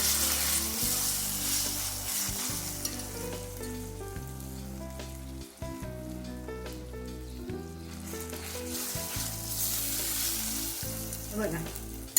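Ginger garlic paste frying in a pan for Marathi chana dal zunka, a soft sizzle running under steady background music, with occasional light stirring sounds.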